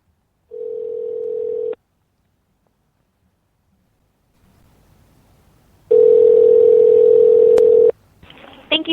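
Telephone dial tone on a call to Los Angeles: a steady tone for about a second, a pause with faint noise, then a louder two-second tone cut off by a brief click and rustle.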